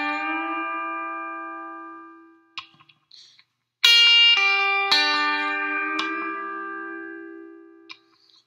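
An electric guitar plays a country lick outlining C dominant 7th in a solo, ringing sustained notes with a string bend and a few sharp plucks, close and alone.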